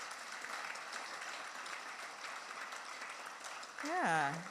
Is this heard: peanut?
no